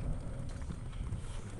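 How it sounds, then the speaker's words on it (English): Wind blows hard outdoors on a cloudy day. It is a steady, low, rumbling buffeting across the microphone with no other clear sounds. "It's kind of cloudy out and wind's blowing like crazy."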